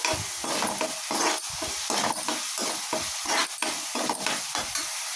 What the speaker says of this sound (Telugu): ఇప్పుడైతే పసుపు వేసుకుందాం. ఇది కూడా కలిపేద్దాం.